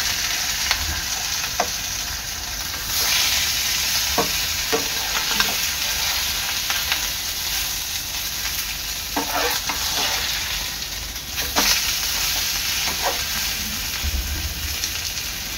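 Pomfret fries in an oiled pan with curry leaves, giving a steady, close sizzle and crackle throughout, with occasional clinks and scrapes from stirring and turning.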